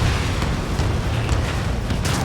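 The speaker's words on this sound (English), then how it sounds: "Strider 1, missile launched." Missile launch and explosion from the combat flight game Ace Combat 7: a loud, continuous broadband roar and rumble with a sharper burst near the end.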